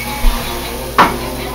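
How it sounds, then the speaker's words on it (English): Pan drippings hit a hot roasting pan for roast pork gravy, a brief burst of sizzle around the one-second mark preceded by a soft clunk, close and fairly quiet. "Now we're going to put in the rest of our pan drippings here"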